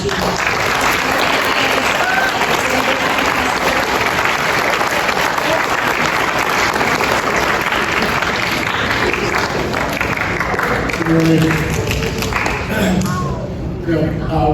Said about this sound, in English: we'd like to give her a round of applause